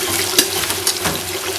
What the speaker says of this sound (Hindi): तो प्याज फ्राई होने देते हैं।